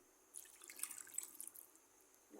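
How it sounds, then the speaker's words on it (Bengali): A little water is poured into a cooking pan with garlic, ginger and cumin, giving a short, faint splashing trickle and drips that rise and then fade, close by and quiet, with no talking. "হালকা একটু পানি দিই"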